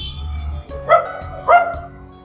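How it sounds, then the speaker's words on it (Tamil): Dogs on a street in Jaffna give two sharp, loud barks about half a second apart over faint low background rumble. "நாய்கள்"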